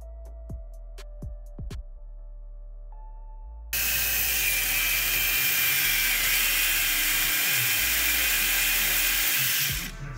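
Ratchet turning a downpipe bolt on a Subaru STI, a few sharp clicks at the start followed by a long, loud, steady whirring rattle that cuts off near the end.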